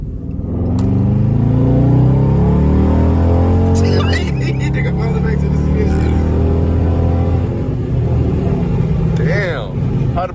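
Dodge Charger Scat Pack with a custom exhaust revs up close and loud, the engine pitch rising and falling through several pulls while voices sound briefly over it.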